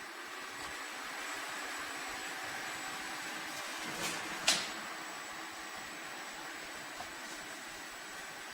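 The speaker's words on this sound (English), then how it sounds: "It is now going back to its charging station." A robot vacuum and mop combo with 10000Pa suction hums faintly and steadily while returning to its charging station, with a couple of soft clicks partway through.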